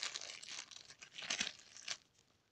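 Plastic packaging around a micro USB charging cable from a Xiaomi Redmi Note 3 Pro Prime box is torn open, making quiet, close crinkling and ripping noises in several short bursts.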